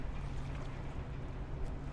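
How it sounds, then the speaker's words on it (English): Ferry engine in the video game Oxenfree, a low steady rumbling hum with water-like wash, continuous and moderately loud with no talking. "You should be hearing a engine, kind of ferry engine probably here"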